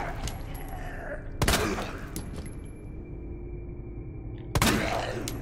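Gunfire from the Resident Evil 2 Remake video game: two loud, sharp gun blasts a few seconds apart, each with a ringing tail, over a steady game background.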